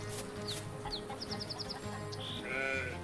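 Chickens clucking in the farming game Force of Nature 2, a string of short bright clucks and squawks in quick succession over a steady low ambient hum, with a louder drawn-out call near the end.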